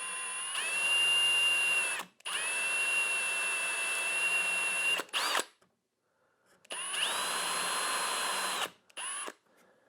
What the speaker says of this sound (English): that's exactly where I need to drill a hole